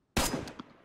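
A single sharp gunshot in the video game DayZ cracks loud and sudden, then tails off into a short echoing decay.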